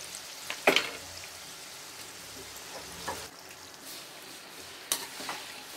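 Mawa suji gujia fry on medium heat, a steady soft sizzle of oil close by with a few sharp scrapes and clinks of a utensil against the pan scattered through.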